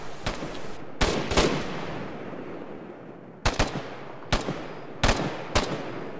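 Gunfire in Arma 3 during a military simulation operation: sharp bursts and single shots crack out at intervals over a rumbling background, some close and loud, others more distant.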